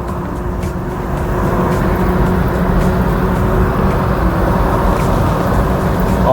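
Steady, loud highway rumble heard from inside a moving vehicle as a Honda vehicle passes on the highway, with continuous broadband road and wind noise and no distinct pass-by peak.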